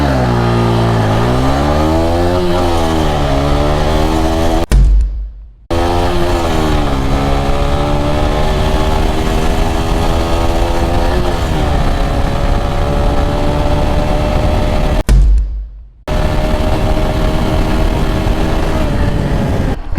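TVS Apache RTR 160 4V motorcycle accelerating hard in a 0–100 drag run, loud and close: the engine climbs in pitch through each gear, with two sharp drops at the gear changes, no talk.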